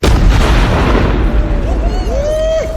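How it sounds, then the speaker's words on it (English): A large outdoor explosion detonates with a loud, deep boom right at the start, then rolls on as a long rumbling decay with faint higher tones trailing near the end. "the biggest explosion I've ever set off in the history of my channel"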